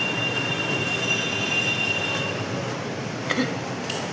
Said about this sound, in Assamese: এইটো হৈছে পুৰণা ট্ৰেইন ষ্টেচনটো